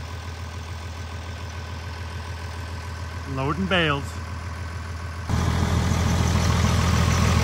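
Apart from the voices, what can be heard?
two-wheel drive tractor engine running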